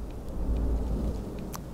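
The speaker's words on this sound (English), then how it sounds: "Did you hear that thunder?" Thunder during a game of Hitman set in Sapienza, a low rolling rumble with faint rain hiss underneath, steady and moderately loud throughout the short stretch.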